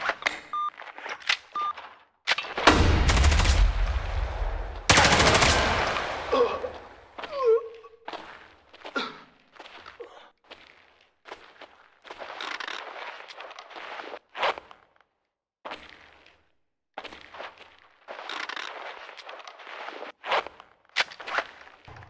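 Two loud bursts, a sharp blast then a second explosive crack, followed by scattered quick shots and footsteps in a game mix.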